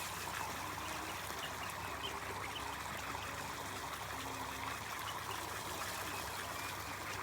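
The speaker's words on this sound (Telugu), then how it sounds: "మళ్ళీ ఫ్రెష్గా వాటర్ పడుతున్నాం." Fresh borewell water flows onto raised farm beds, a faint, steady trickling wash heard continuously with no voices.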